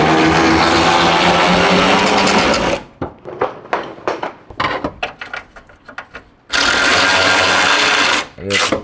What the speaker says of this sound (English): I'm gonna use the electric ratchet